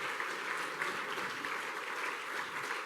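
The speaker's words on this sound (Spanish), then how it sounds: "démosle un aplauso al Señor" A church congregation breaks into warm, continuous applause, a thick even wash of many hands clapping for a few seconds with no talking over it.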